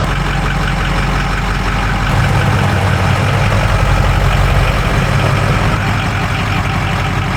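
A Ford 6.0L Powerstroke diesel truck engine idles steadily and loudly up close, a continuous low rumbling clatter with no talk over it.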